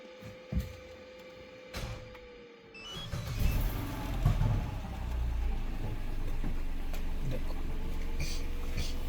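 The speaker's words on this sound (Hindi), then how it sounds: "एक बार गाड़ी स्टार्ट करो" A Hyundai Alcazar with a battery warning light and generator communication fault cranks and starts at about three seconds, then runs at a steady, fairly loud idle close by. A few sharp knocks come first.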